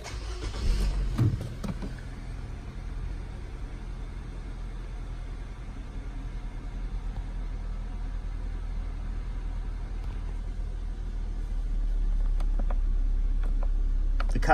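A 2014 Nissan Juke automatic cranks and fires up with a short whirring start, then settles into a steady low idle hum that grows slightly louder near the end, with no voices over it.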